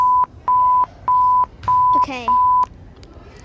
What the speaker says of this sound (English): Okay, French EAS alarm.